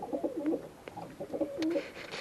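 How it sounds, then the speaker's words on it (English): A pair of doves coo in a nesting box, soft repeated low coos in a broken rhythm, close and moderately quiet with faint chirps around them. "pair of doves."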